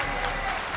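A French television game show studio audience applauds a winning contestant, a dense, steady wash of clapping filling the short moment without pause.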